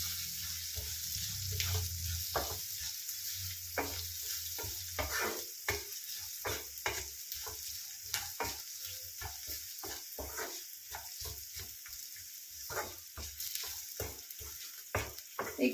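Onions with a quarter spoon of turmeric and salt softening in a pan for a beans and carrot palya, a soft, fairly quiet sizzle with intermittent spatula scrapes and stirring clicks throughout.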